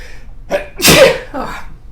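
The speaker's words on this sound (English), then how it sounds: "So I'm sneezing a bit, I apologize." A person sneezes once, loud and close, with a short breathy intake just before the burst and a softer tail after it.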